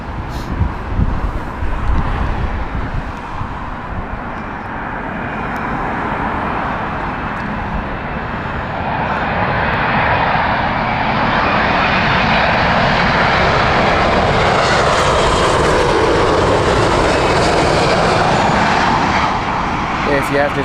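A Boeing 787 arriving at Heathrow in crosswinds, its jet engines a loud, steady roar that swells and holds over twenty seconds, with wind buffeting the microphone and a voice talking faintly beneath.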